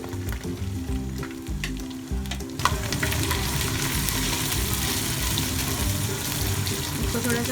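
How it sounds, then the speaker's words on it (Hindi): Carrots fry in a pan for Hindustani vegetable pulao, a steady close sizzle with scraping stirs and occasional clinks throughout, with no talk. "इसको थोड़ा सा फ्राई कर लेंगे।"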